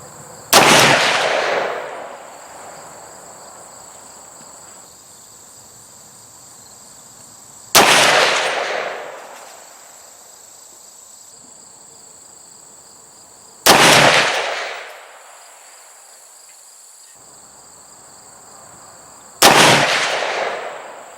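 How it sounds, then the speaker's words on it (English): Four loud, sharp gunshots from a 300 Blackout rifle firing supersonic 168gr A-Max handloads, spaced several seconds apart, each cracking out and trailing off in a short echoing decay. "We'll go ahead and just keep on shooting."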